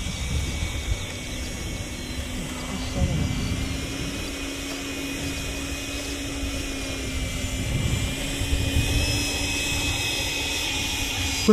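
A Freewing T-33 Shooting Star model jet flies overhead with a continuous whining ducted-fan hum, steady and moderately loud across the whole stretch, with faint wind noise.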